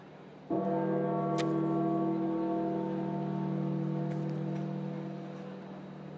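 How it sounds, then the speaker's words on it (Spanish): A single deep church bell strike at St. Peter's Basilica in the Vatican, tolling slowly for the death of Pope Francis, rings out and its long resonant hum slowly fades, with faint background noise and no voices. "Lento y solemne es el tañir de las campanas en la Basílica de San Pedro del Vaticano esta mañana"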